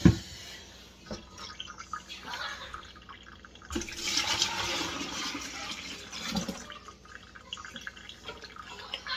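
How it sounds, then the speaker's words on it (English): Thick, starchy rinse water from washed flour dough pours through a strainer into a jug, a trickling, dripping stream that swells midway and then fades. "And we're just going to pour that into a jug to keep."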